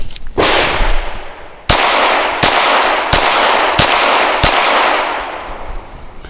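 Gunshots from a Full Conceal Glock 19 pistol, six loud sharp reports fired at a steady pace about two-thirds of a second apart, each trailing into a long ringing outdoor echo, with no talking.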